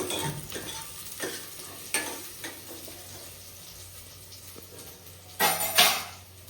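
A spoon stirs fenugreek leaves into a frying mutton sambar in a metal pan, with scraping strokes and utensil clinks, then a louder burst of sizzling near the end, all close and without talking.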